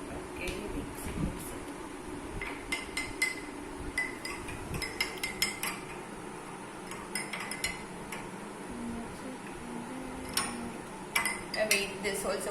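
A spoon clinks and scrapes against a container while stirring coriander and turmeric powder, rapid irregular metallic taps in bursts, close and moderately loud, with a voice talking now and then.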